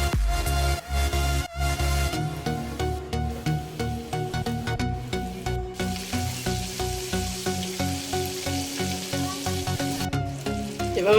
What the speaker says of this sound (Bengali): আমি সবগুলো পপকর্ন এভাবে করে ভেজে নিব।